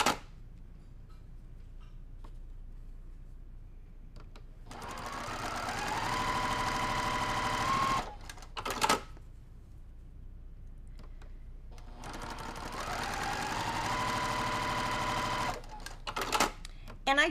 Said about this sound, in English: And I do try to sew directly on that line.